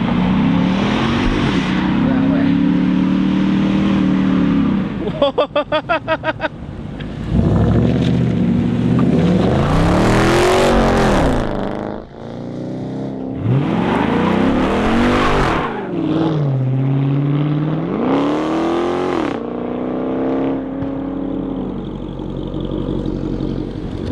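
A Chrysler 300 SRT8 sits parked while its engine revs repeatedly, swelling and falling in loud throaty bursts with a brief crackle between pulls, and a voice is faintly audible in the background.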